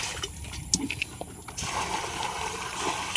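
Water splashing and gushing as rainwater is bailed out at a house construction site, with intermittent scoops and splatters that settle into a steadier pour, close and moderately loud.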